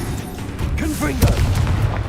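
A Confringo spell explosion in Hogwarts Legacy, a loud rumbling boom amid continuous game combat noise, with a spoken voice and brief whooshing effects just before it.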